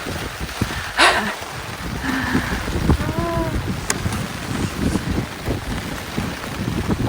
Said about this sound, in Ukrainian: Почалася сильна злива.